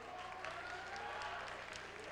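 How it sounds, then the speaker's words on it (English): A crowd applauds the three remaining finalists at the Miss Continental Plus 2004 pageant, a dense, even wash of distant clapping that holds steady throughout. "let's give them a nice round of applause."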